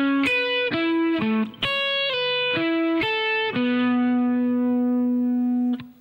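Electric guitar plays a short melodic phrase of single notes, a quick run of picked notes ending on a long sustained note that rings out and fades, loud and clean with light reverb; no voices.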